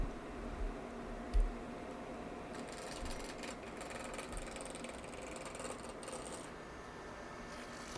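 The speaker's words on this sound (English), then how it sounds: "Starting out with the roughing gouge." A wood lathe spins a lidded box blank while a roughing gouge works it. The motor hum is faint and low, soft scraping cuts set in partway through, and a few light knocks sound.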